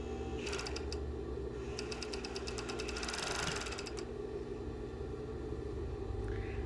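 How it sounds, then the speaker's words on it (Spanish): Sewing machine stitching the fabric of a lined skirt: bursts of rapid needle clatter over a steady low motor hum, quiet and close, then the hum continues alone. "Acomodo mi tela como si el corte fuera recto y continúo cosiendo de forma normal."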